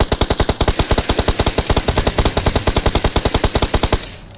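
Rapid automatic gunfire in the mobile shooter game BGMI, a loud, close, steady burst of evenly spaced shots at about ten per second lasting roughly four seconds, then stopping abruptly.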